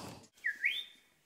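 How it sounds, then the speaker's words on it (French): A blackbird gives a short clear whistled phrase of two rising notes, fairly close, after a brief burst of background noise. "Et écoute, lui aussi il siffle."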